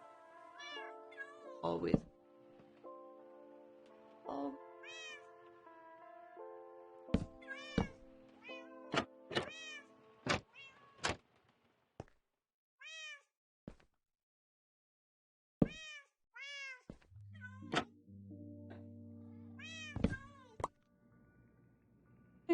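A cat meows repeatedly in short, clear, separate calls across a quiet indoor room, close by, with occasional soft bumps between them and a brief spoken word.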